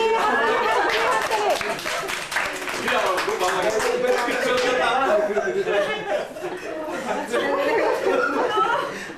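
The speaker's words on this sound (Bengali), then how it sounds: "হাততালি" Audience at a home music gathering in April 2000 claps rhythmically along with singing and a harmonium, steady loud hand claps mixed with chatter and laughter throughout.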